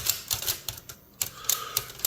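Clacks and snaps from an antique Oliver No. 5 typewriter as its key levers and type bars are refitted, a string of sharp, close metallic taps in irregular bursts with a brief quiet pause in the middle.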